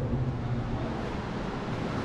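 Strong wind roars against the microphone during a seaside storm at Popovka, Crimea, in a continuous, low, blustery rush with no speech.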